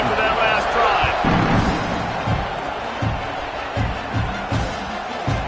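A football stadium crowd roars during a kickoff in a Notre Dame versus Oklahoma game, a dense, continuous wall of cheering with occasional thuds, under a commentator's voice.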